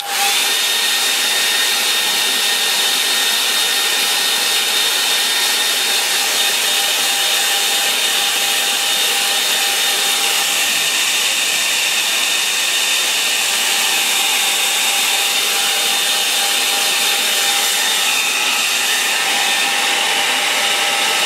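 A hair dryer blows steadily over a watercolour painting to dry it, a loud continuous whirring roar with a faint high whine that runs unbroken and close throughout.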